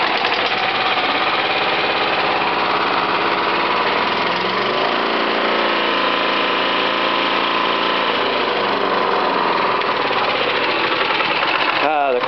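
A Honda HR194 lawn mower engine runs continuously and loudly at a steady buzzing idle, its tone shifting slightly midway, with a voice talking over it.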